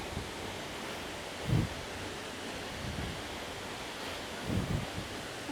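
A remote waterfall near Naval in the Philippines gives a steady, moderately faint rushing roar heard from a short distance, with a couple of soft thuds over the continuous wash.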